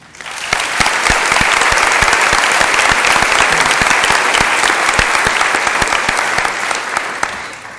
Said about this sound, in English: join me in a round of applause to thank them